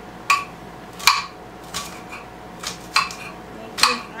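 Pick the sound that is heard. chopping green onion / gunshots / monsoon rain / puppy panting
chopping green onion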